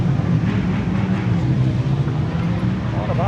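Many motorbikes rumbling at a busy outdoor bike night, a dense low engine drone with a rising rev toward the end, loud and continuous, with a voice speaking briefly over it.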